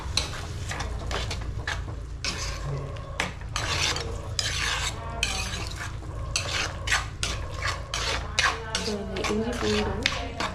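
Prawn thokku masala with garlic sautéing in a pan, a spatula scraping and rasping against the metal in quick repeated strokes over a low steady hiss, close and fairly loud.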